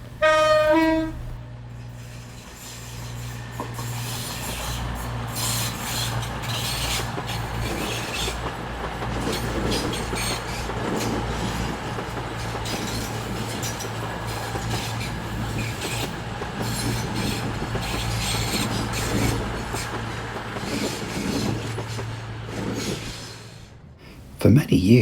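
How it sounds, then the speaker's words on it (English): A CrossCountry service from Edinburgh to Plymouth rolls past Totnes station, opening with a brief horn, then a long steady rumble of wheels and carriages with faint clicks and squeals, ending abruptly as it clears. "this cross-country service from Edinburgh to Plymouth is passing the station as it heads into Totnes Mainline Station"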